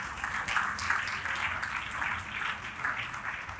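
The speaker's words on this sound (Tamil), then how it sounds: "எல்லாம் கைதட்டுங்க." A church congregation claps together during a Christmas sermon, a sustained wave of many hands applauding in a large room, moderately loud and steady throughout.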